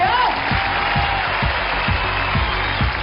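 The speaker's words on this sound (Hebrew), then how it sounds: "תהיו כפיים לשלום הסייעת!" An audience at a stand-up comedy show in Caesarea applauds in a dense, steady wash of clapping. Low rhythmic thumps run beneath it, and a voice can be heard over the crowd.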